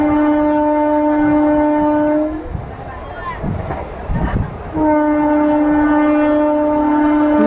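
Passenger train 17231 runs through a small halt station without stopping, a sustained multi-tone horn sounding loudly, breaking off briefly amid rushing rumble and clatter, then resuming; voices murmur faintly in the background.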